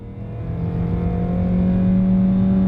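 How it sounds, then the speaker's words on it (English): Small boosted engine in a Honda car with a CV transmission accelerating from a stop, a steady rising drone heard from inside the cabin, building gradually and smoothly with no voices. "Now we're gonna test out a little bitty engine with the boost. We'll come to a stop and here we go."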